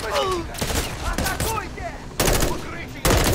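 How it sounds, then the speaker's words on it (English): Several loud gunshots crack out in Call of Duty: Modern Warfare 3, with a sharp burst as a shot sets off planted C4, among busy game noise. "So I'm going to lob my C4 on there. I'm going to shoot it."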